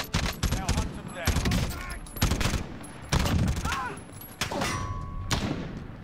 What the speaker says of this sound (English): Somebody's shooting at me over here